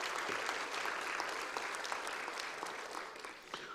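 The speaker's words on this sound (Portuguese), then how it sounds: "uma salva de palmas à equipe que faz acontecer a entidade" Audience applause at a ceremony honouring an association: steady, dense clapping from a seated crowd that slowly thins toward the end.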